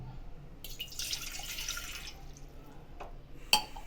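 Water pours into a pan for Gujarati velan lapsi in a soft, splashy stream lasting about a second and a half. A faint clunk and a sharp knock follow.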